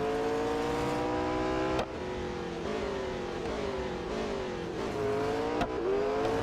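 A McLaren 600LT in Real Racing 3, its engine note held loud and steady with rising revs broken by sharp gear shifts, racing close and continuous with no talk.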